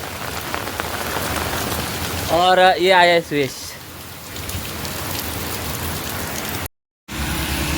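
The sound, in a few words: rain falling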